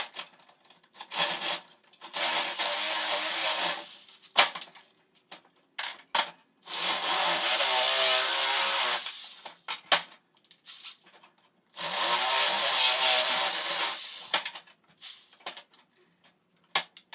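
A drill fitted with a 1 inch paddle bit bores into PVC to enlarge holes, heard as three long, loud grinding, rasping runs separated by short pauses and clicks, close by.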